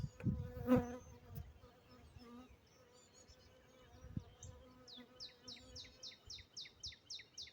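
Honey bees buzz close by at an open hive, the hum rising and falling, with a run of quick, evenly spaced chirps building toward the end.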